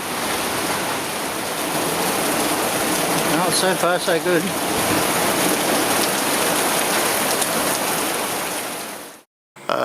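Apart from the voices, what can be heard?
rain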